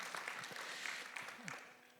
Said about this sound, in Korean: 우리의 기도에 응답하여 주시는 우리 하나님께 감사 영광의 박수 올려드리겠습니다